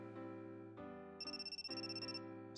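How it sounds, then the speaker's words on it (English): A mobile phone ringtone for an incoming call plays a bright, melodic electronic tune of shifting sustained notes, clear and steady with no voices. "Someone is calling Miyuki's phone."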